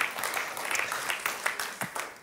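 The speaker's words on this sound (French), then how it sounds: "vous avez le droit d'applaudir, vous avez le droit." Applause from a church congregation during a sermon, a short burst of scattered clapping with individual claps standing out, moderately loud and heard alone.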